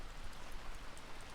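Steady rain patters down on the sailboat Phoenix, a dense, even hiss of drops with no voices.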